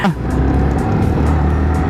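A modified Yamaha R15 V3 motorcycle fitted with a MotoGP body kit rides along an open road, its engine droning loud and steady at close range with a faint rise in pitch at the start.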